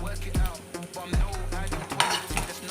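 Mustard seeds and cumin fry in a hot pan with a steady sizzle and crackle, broken by three or four heavier knocks and scrapes as a spoon stirs the spices, with no talking.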